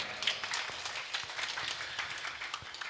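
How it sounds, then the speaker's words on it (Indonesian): Light, distant applause from a crowd at a temple ceremony, a soft steady patter of many hands clapping for a few seconds. "Tepuk tangan buat panitia."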